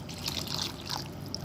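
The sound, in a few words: syrup being poured over kunafa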